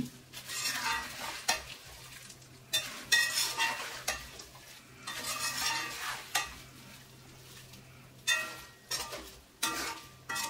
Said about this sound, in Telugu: చికెన్ వేసిన తర్వాత మొత్తం కలిపేసి